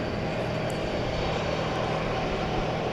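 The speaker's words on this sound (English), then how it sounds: "We'll see that one blast off 18 left." An airliner roars on takeoff from runway 18 Left at DFW Airport at night, a steady, loud, broadband jet rumble that holds without letup.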